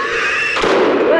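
A single sharp gunshot bursts out midway through a dark scene in the horror video game House of Ashes, loud and close, over a tense droning music bed.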